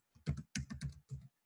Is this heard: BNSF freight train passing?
no